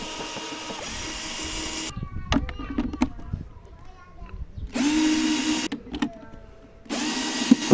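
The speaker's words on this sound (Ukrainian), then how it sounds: "викручую ці ось 4 болти" A cordless power driver whirs in three bursts as it backs out bolts on a scooter's plastic body panel, close and fairly loud, with talk and handling noises between the runs.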